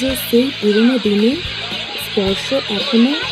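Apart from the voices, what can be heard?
No distinct noise like a dog, phone or traffic.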